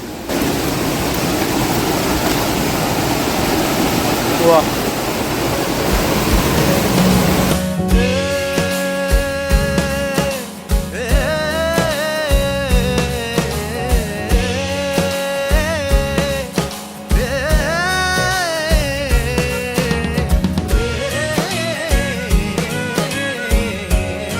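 Steady rushing water from a small forest stream in Kerala fills the first several seconds before music with a beat starts and continues to the end.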